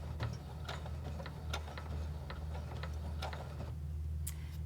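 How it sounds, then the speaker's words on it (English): A sewing machine stitches slowly through thick faux fur, giving a faint, steady low motor hum with a series of light, irregular clicking ticks as the needle punches a few stitches. "We're going to put our foot down and sew 4 or 5 stitches"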